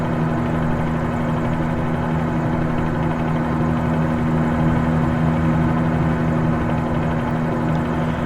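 A constant video game helicopter drone in Microsoft Flight Simulator over Hong Kong, with a steady low hum and rotor whir, unchanging throughout, loud and close with nothing else heard.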